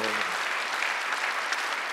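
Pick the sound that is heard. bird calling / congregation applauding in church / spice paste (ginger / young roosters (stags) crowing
congregation applauding in church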